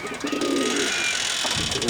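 Earth-coloured Müseccem pigeons coo in a low rolling murmur, close and continuous, with bright chirps and a faint voice in the background.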